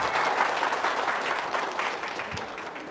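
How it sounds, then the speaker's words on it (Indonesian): An audience at an Indonesian talk on charity claps in a dense, continuous wash of applause that slowly tapers, heard from within the room without speech. "Tepuk tangan dong."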